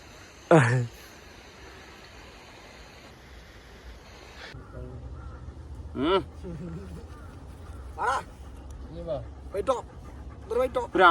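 Dogs whimper, yip and pant at close range outdoors in Manali, with brief bursts of vocalizing between quieter stretches.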